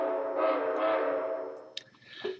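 Short train whistle clip played back through an ADPCM sound program, a steady multi-tone horn blast that fades, followed by a couple of faint clicks.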